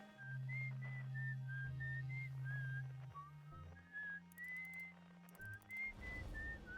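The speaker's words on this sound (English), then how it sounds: "Yeah, I like the whistling." A melodic tune is whistled in the game Outer Wilds, clear and steady above low sustained background tones, the phrases repeating at an even pace without any talking.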